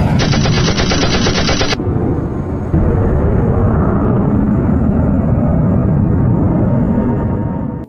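Sound effect of a 30 mm cannon firing at a balloon, a loud, rapid burst of rounds that cuts off abruptly, followed by a roaring rumble like a jet engine that carries on to the end.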